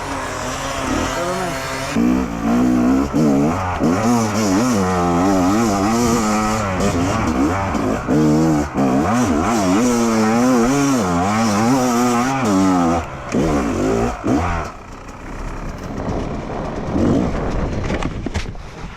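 A Fantic XE 300 enduro motorcycle on hard off-road terrain, its engine close and loud, revving up and down repeatedly in rising and falling bursts under heavy throttle before dropping to a lower, rougher idle near the end.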